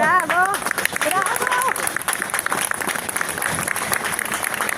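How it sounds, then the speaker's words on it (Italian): A crowd applauds a race walker with steady, dense clapping, while a voice speaks over it near the start and cheering voices run throughout. "questo è l'applauso per te"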